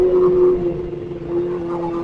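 A Kawasaki ZX-25R motorcycle engine runs hard and high at a steady pitch throughout, with a rough, buzzing drone and slight wavering, loud and close.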